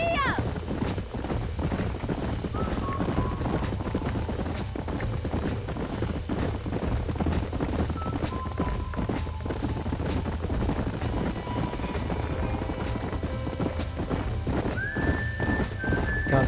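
A horse in the Red Dead Redemption western game gallops steadily with dense hoof clatter and snorts and whinnies once or twice, over a constant bed of game sound, with occasional voices.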